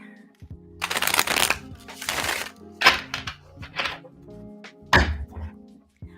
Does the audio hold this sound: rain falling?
no